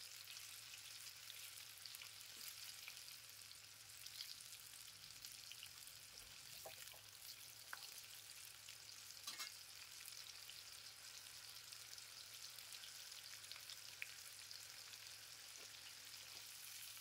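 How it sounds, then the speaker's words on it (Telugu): Tiger prawns deep frying in oil, a faint, even bubbling sizzle with occasional small pops, steady and distant-sounding throughout with no talk. "ఫ్రై చేసుకున్న ప్రాన్స్ అన్నీ చాలా క్రిస్పీగా ఉంటాయి."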